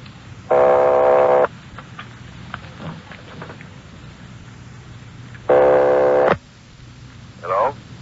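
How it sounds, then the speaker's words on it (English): An old-style telephone ring, a Los Angeles call in a Dragnet radio drama, sounds twice, each a buzzing burst about a second long separated by a pause, with faint background noise between. "They're ringing the number, Sergeant."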